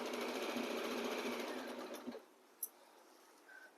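An Usha sewing machine stitches a fall onto a saree in a fast, steady whirring run that stops abruptly, followed by a couple of faint clicks.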